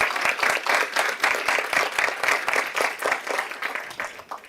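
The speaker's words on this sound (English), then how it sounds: "I want to give her a round of applause" A room full of people applauding at a school board of education public meeting, dense and steady clapping that stays loud throughout and tapers slightly at the end.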